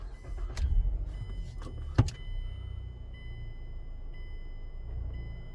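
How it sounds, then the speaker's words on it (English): A Mazda car engine starts with a short rough crank and a sharp thump, then settles into a low, steady idle under a faint continuous electronic tone inside the car. "Start the car."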